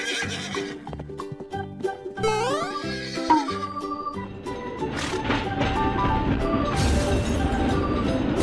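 A horse neighs and whinnies loudly in several bursts, with hooves clip-clopping, followed by a denser jumble of crashing and clattering sounds.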